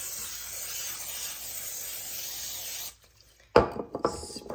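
Cooking spray hissing onto a pan for a thick pancake-style batter, a steady close spray lasting nearly three seconds, then a pause and a few clattering kitchen knocks.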